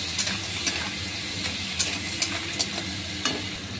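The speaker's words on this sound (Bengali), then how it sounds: "তেল হিট হয়ে গেছে, কাঁকড়াগুলি দিয়ে ঝটপটই ভেজে নেবো ঝটপট" Crabs frying in hot oil in a pan, a continuous close, bright sizzle with occasional sharper crackles and pops, steady and fairly loud with no talking.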